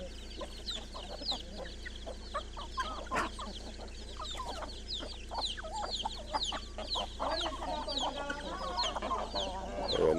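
Chickens and chicks on a farm near Águas Claras, Brazil, with hens clucking and small chicks peeping in a busy, steady chorus close by against quiet rural background noise.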